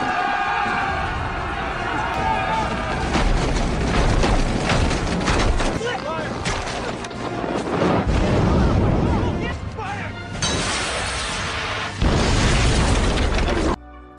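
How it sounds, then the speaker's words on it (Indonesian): Explosion in an action film as prisoners blow up an office, with loud booming blasts, crackling debris and crowd noise rolling through the scene, and a narrator's voice talking over much of it. "para narapidana meledakkan kantor Winter dan menggagalkan serangan meriam air dari kendaraan lapis baja."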